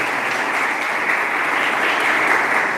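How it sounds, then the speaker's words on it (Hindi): A hall audience at a merit award ceremony claps loudly and steadily for a student award winner, a dense sustained applause with no talking. "मैं चाहूँगा एक बार जोरदार तालियाँ आप सभी हर्षित के लिए बजाएं।"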